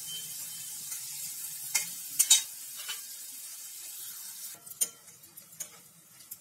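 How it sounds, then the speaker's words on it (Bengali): Onion paste frying in oil with mustard seeds and curry leaves gives a faint, soft sizzle, broken by a few sharp clicks and scrapes of stirring, with no one speaking. "পেঁয়াজ বাটা তুলে দিলাম, পেঁয়াজটা একটু লাল করে ভাজবো আমি।"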